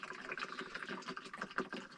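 Water running into a newly installed kitchen sink in a riverside dugout shelter, a steady splashing stream that holds at close range and keeps flowing without pause.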